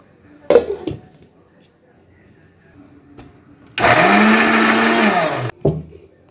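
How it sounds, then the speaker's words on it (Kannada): An electric mixer grinder whirs loudly for about two seconds, grinding coriander, mint and green chillies into a paste, preceded by a few clunks and handling knocks and followed by a brief knock. "ಕೊತ್ತಂಬರಿ ಸೊಪ್ಪು, ಪುದೀನ ಹಾಗೂ ಹಸಿಮೆಣಸಿನ್ಕಾಯಿ ಇಷ್ಟನ್ನು ಹಾಕ್ಕೊಂಡು ಇವಾಗ ಚೆನ್ನಾಗಿ ಪೇಸ್ಟ್ ಮಾಡ್ಕೊಳ್ಳೋಣ."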